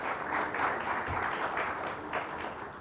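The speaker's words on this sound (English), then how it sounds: "A round of applause for Adnan, please." Audience applause at a chemicals company launch event, a steady moderate wash of clapping lasting the whole moment without speech.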